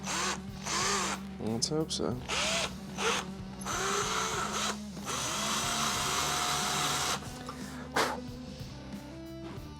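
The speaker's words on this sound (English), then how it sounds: "I'll drill it, get it straight" A power drill whirs in several short bursts, revving up and down, drilling mounts for Magura front brakes on a Blocks Flyer, with people talking briefly between runs.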